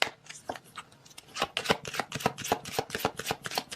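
Oracle cards are shuffled by hand close up, giving a quick run of crisp riffling slaps and flutters with no voice over them.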